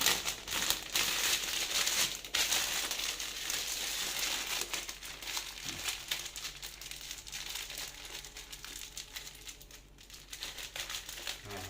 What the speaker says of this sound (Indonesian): Kita masukkan ke dalam plastik, lalu kita tali.